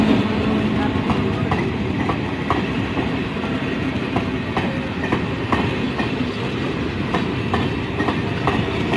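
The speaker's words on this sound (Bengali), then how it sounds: "মাঝেরহাট হাসনাবাদ লোকালের সাথে ক্রসিং ছিল বুশিয়ার স্টেশনে" A local train runs steadily along the track at a station on a single-line section between Majerhat and Hasnabad, with a continuous loud rumble and regular clickety-clack wheel beats throughout.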